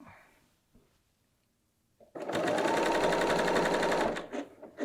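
A BERNINA L 890 sewing machine stitches a knit neckband on a dress in one loud, rapid, steady run of needle strokes lasting about two seconds, preceded by quiet handling clicks.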